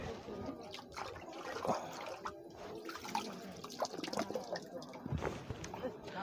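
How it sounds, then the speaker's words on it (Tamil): Spring water trickling and dripping at a hilltop spring on Kondarangi hill, a soft, continuous, irregular splashing, close but faint. "365 நாள் வற்றாத சுனை தண்ணி எப்போ இருந்துக்கிட்டே இருக்கும்."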